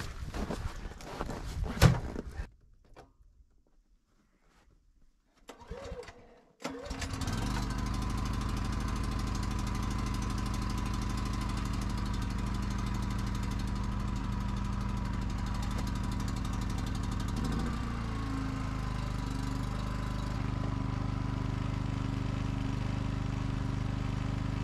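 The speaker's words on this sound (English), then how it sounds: "So let's turn the generator on and plug it in." A portable generator starts up after a few knocks and footsteps, then runs as a loud, steady drone that holds for the rest of the stretch, its pitch shifting slightly once as load is added.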